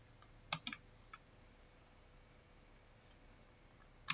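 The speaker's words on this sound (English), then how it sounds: "we will click cash because we don't have another payment method" Mouse clicks in Odoo point of sale software: two quick sharp clicks near the start, a faint tap in the middle, then another crisp double click at the end, all close and isolated in a quiet room.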